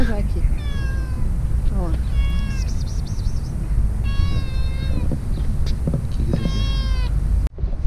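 A house cat in an Airbnb bedroom in Anaheim gives several clear, drawn-out meows in a row, close by, over steady background hum, with a person speaking briefly.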